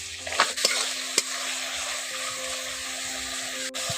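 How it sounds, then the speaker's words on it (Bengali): Ridge gourd stir-fried in a pan, a steady close sizzle with scraping stirs and a few sharp clacks of the spatula against the pan early on. "এখন ঝিঙ্গাটাকে একটু ভালো করে কষে নিচ্ছি"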